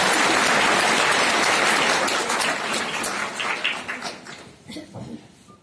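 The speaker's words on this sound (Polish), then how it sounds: "Wielkie brawa." Audience applause for a team of seniors at a Familiada-style quiz show during a Senior Day and golden wedding anniversary celebration in Popowo, a dense sustained clapping that gradually thins and fades toward the end.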